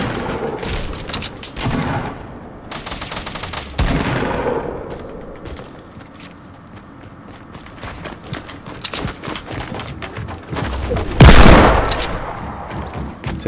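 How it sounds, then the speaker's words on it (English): Bursts of nearby gunfire crackle in a Fortnite Battle Royale match, coming in uneven clusters with quieter gaps between and a heavier, louder volley toward the end. "Oh, I hear people shooting real close."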